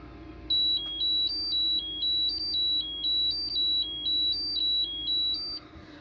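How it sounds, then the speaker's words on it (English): A battery management system low-voltage alarm plays a repeating little beeping melody of high, clear tones, steady and fairly quiet, cycling over and over then stopping. "Now this little alarm right here"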